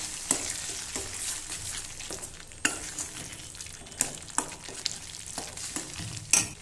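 Salt, red chili powder and turmeric powder being stirred into food in a sizzling pan, with steady frying hiss and occasional sharp spoon clinks against the pan, close and alone.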